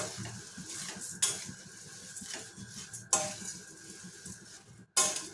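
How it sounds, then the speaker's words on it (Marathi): Poha dry-roasting in a kadhai over a low flame, stirred continuously: a quiet rustling scrape with three sharp metallic knocks of the spoon against the pan, no voices. "त्याच्यामध्ये आपल्याला पोहे टाकून भाजून घ्यायचे गॅस बारीक ठेवायचे आणि आपल्याला ते कंटिन्यू हलवत तसे भाजून घ्यायचे"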